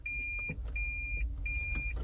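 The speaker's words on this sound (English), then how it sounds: "Sorry about the beeping. My car does it like a friggin' forklift." A car's reversing warning beeps, three evenly spaced electronic tones heard inside the vehicle over a low engine hum.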